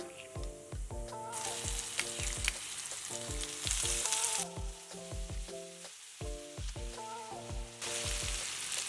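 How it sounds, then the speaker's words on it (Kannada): Green chili paste and chana dal fry in a pan, a hissing sizzle that swells in stretches beneath a prominent rhythmic music track playing throughout. "ಹಸಿಮೆಣಸಿನಕಾಯಿ ಎಲ್ಲ ಚೆನ್ನಾಗಿ ಫ್ರೈ ಆಗಲಿ"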